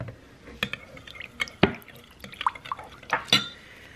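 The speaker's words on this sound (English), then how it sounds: "Then we're going to add in 1 tablespoon of hydrogen peroxide." A tablespoon of hydrogen peroxide goes into a homemade hand sanitizer mix, heard as a few faint, scattered drips and small liquid plinks against a container, close and quiet.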